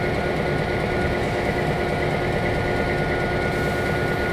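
A train rumbles steadily in the Trainz Simulator 2019 game on a Niagara layout, a continuous loud, low drone with no breaks and no talking.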